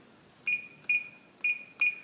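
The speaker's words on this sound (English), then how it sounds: "a green flash with two beeps showing the new user code has been added" Two pairs of short, high electronic beeps from a Reliabilt door lock keypad, evenly spaced and close, over a faint hum.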